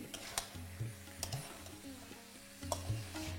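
Fried drumsticks and potato stirred in a pan over a low flame: soft scraping strokes and a few light clinks of a spoon against the pan over a faint sizzle, with no voices.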